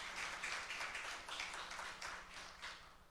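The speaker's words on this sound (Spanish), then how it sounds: "Podemos darle una ofrenda de palmas al Señor en esta mañana." Congregation clapping during a morning church service, a steady crowd of hands applauding continuously for a few seconds with no talk over it.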